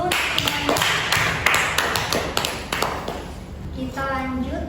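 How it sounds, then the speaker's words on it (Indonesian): A classroom of students clapping hands during a physics lesson: scattered, uneven claps and taps over a few seconds, moderately close, with a teacher's voice and some chatter mixed in. "Tepuk tangan dulu."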